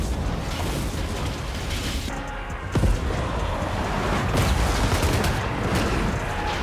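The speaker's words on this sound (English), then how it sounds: "They're just ogres with handheld cannons that fire scrap." Lead Belcher ogres in Total War: Warhammer fire handheld cannons loaded with scrap. The cannon blasts are loud and near, with overlapping booms and bursts rolling through a continuous battle din and one sharp crack standing out midway.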